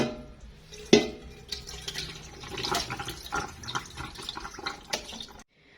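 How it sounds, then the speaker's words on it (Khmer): Fermented fish paste (prahok) is poured into a pot, giving a faint, close liquid gurgle with a few soft splashes and clinks, and then it stops. "បន្ទាប់មកនេះខ្ញុំចាក់ប្រហុកចូល"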